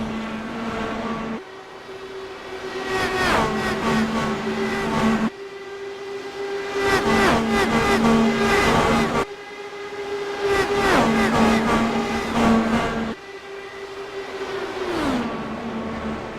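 Race cars on track during a live race roar past in repeated waves, each engine whine rising and then dropping in pitch as it goes by, loud and continuous.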